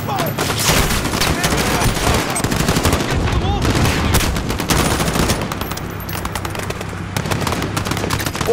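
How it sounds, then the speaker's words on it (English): Heavy gunfire in the Call of Duty Modern Warfare video game during a firefight at an embassy compound, sustained rapid machine-gun bursts and scattered shots throughout, with voices talking underneath. "We're taking fire from the residence."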